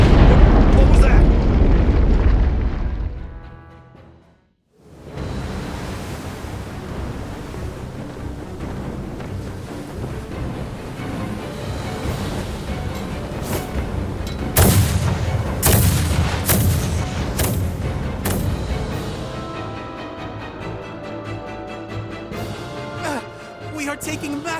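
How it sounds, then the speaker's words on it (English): Heavy naval artillery bombardment in the video game Star Ocean The Divine Force, with deep booms and sharp blasts rolling under a dense battle din, a brief drop to near silence, then a cluster of loud impacts. "We are taking massive fire from the Empire's naval battalion. Their unceasing bombardment is laying waste to our forces."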